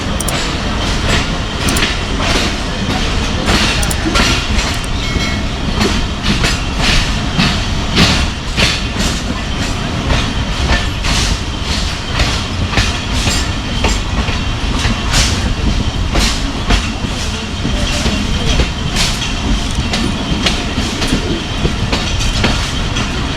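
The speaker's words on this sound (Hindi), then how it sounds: "दो मिनट के स्टॉप के बाद ट्रेन हमारी निकल पड़ी है वज़ीराबाद से" The Jaffar Express rolls out of Wazirabad toward Rawalpindi across Punjab, wheels clattering over rail joints in a steady, loud clickety-clack rhythm with continuous carriage rumble throughout.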